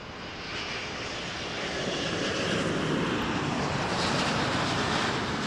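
Airliner at Toronto Pearson Airport, landing or taxiing: a steady, loud, broadband engine roar that swells slightly and holds throughout, with no voices over it.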